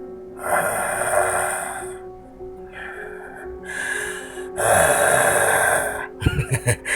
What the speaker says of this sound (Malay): Nafas gadis tu turun naik dengan laju seiring dengan bunyi dengkuran yang membingitkan telinga.